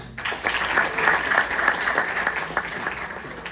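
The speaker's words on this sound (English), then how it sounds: "That's a round of applause." A round of applause from the audience at a college alumni panel: a steady, moderately loud wash of clapping from a room of people that swells briefly and holds for a few seconds.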